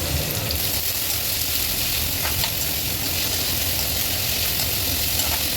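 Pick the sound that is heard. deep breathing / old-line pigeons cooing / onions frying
onions frying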